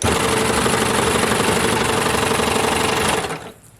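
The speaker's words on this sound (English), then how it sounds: "you can press on your foot pedal and just chain it out" A Babylock Enlighten serger runs under foot-pedal control to chain out thread, a loud, fast, steady mechanical whir that stops abruptly near the end.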